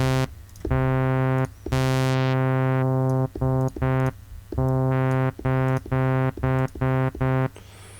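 A buzzy synthesizer plays a run of sustained and clipped notes through a low-pass filter, loud and close, with a dull, muffled top end and short gaps between phrases.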